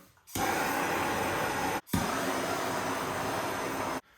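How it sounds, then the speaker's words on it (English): A torch blasts heat onto seized dowel pins in a Grand National engine, a loud steady roaring hiss that cuts out briefly once and then resumes before stopping. "I think the dowel pins are frozen, so I'm just gonna put some heat on them."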